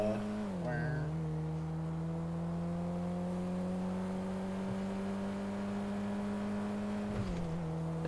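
A small car in GTA driving with a steady, droning engine hum that shifts pitch as it revs near the start and again near the end, holding an even level throughout.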